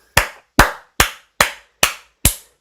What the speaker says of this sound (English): I'll give you a little round of applause.